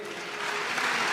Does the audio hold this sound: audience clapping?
yes